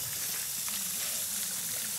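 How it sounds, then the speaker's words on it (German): A steady, close sizzle of eggs seasoned with salt and pepper frying in a hot pan, bright and crackly throughout with no talking. "Ein bisschen Salz drauf machen, ein bisschen Pfeffer drauf machen und kurz anbraten jetzt."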